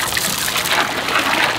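Duck pond water draining in a steady, close trickle and rush, continuous and moderately loud throughout the short stretch, with no talk over it.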